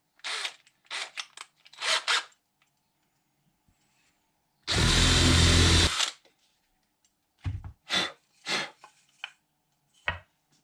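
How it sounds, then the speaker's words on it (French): An electric drill bores a 6 mm hole while building a mini photo studio: one loud, sustained whir of about a second, surrounded by scattered short clicks and handling knocks. "je vais pouvoir percer à 6"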